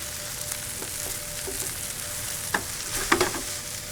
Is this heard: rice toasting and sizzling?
yes